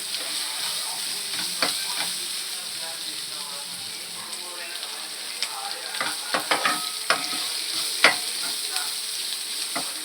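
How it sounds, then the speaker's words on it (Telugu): Broccoli masala curry stirred in a pan, a steady frying sizzle with scattered scraping and clinking spoon strokes at irregular intervals, close and moderately loud, with no talk over it. "ఇలా మధ్య మధ్యలో కలుపుకుంటూ ఉండాలి, అడుగంటకుండా ఉంటుంది."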